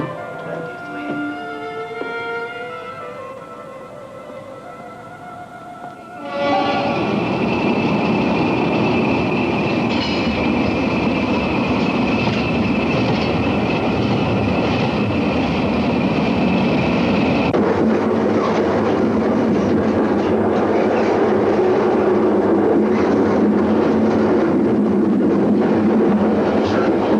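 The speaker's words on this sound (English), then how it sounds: "The train will leave in a few minutes from platform 23." The Ostende Vienna Express pulls away from a station platform, a quiet stretch giving way to a loud, sustained rumble of rolling railcars and wheels with clattering and a steady tonal hum, continuing without speech.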